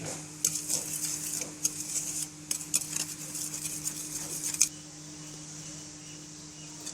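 Cooking oil being worked into paratha dough in a bowl, a run of soft scraping and clinking stirring sounds from near the start, then a quiet steady background with faint hum for the last couple of seconds.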